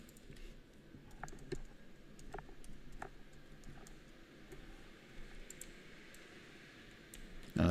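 Scattered clicks of a computer keyboard as a name is typed during video editing, faint and spaced out over a low steady background hum.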